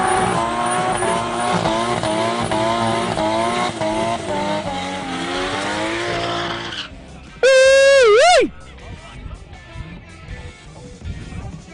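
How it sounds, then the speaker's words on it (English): A BMW and a Toyota Cressida launch at a drag strip, with loud rising engine revs over the first seven seconds. A sharp tonal blast follows, then quieter mixed crowd and track noise. "BMW versus Baby Cressy. Over to Vic. Here we go"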